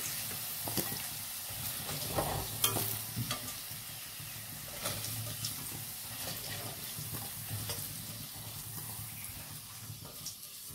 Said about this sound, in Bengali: আলুগুলো ভাজা হয়ে গেছে, আমি তুলে নেব।